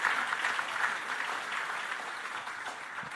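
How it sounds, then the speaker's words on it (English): An audience at the ITU Regional Development Forum for Africa 2018 gives the innovators a round of applause: dense, steady clapping fills the hall evenly from start to finish with no voices on top. "I think all these innovators deserve a very big round of applause."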